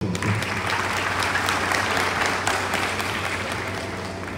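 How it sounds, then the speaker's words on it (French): Audience at a university medicine graduation ceremony in Limonade applauding steadily, a full, even round of clapping with a faint murmur of the crowd. "Je vous invite à l'applaudir."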